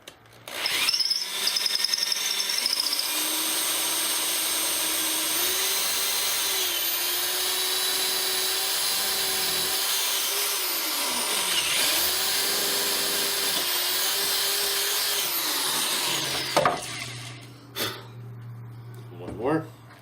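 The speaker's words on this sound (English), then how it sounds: "take the drill, because I can't drill through these holes, and just drill through these holes" A power drill whines steadily at high speed for a long stretch, its pitch dipping under load as it bores through, then spinning down and stopping.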